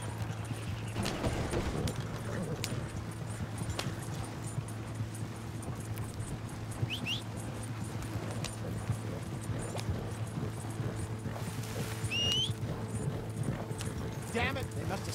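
Hoofbeats of horses galloping in Red Dead Redemption 2 form a steady clip-clop that runs throughout, mixed with a low rumbling bed and faint chirps, while voices talk over them.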